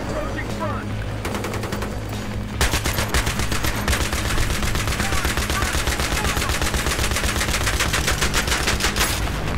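Sustained rapid machine gun fire rattles loudly and continuously in Battlefield 3 gameplay, dense bursts layered with other gunfire and battle noise throughout, with no talk.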